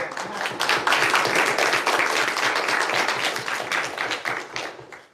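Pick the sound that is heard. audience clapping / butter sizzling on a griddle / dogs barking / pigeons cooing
audience clapping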